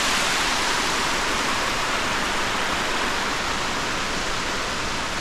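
A waterfall at Wadsworth Falls roars from very close by, a loud, unbroken rush of falling water filling the whole clip with no voices.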